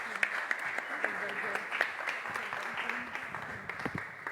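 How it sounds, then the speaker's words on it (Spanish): Audience applause at a book presentation for a work by an author, steady clapping from a crowd at moderate distance, mixed with voices. "Un fuerte aplauso, por favor."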